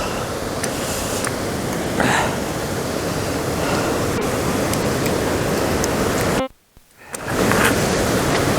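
Waterfall in Killarney National Park, a continuous close roar of falling water with a brief dropout near the end before the rush resumes.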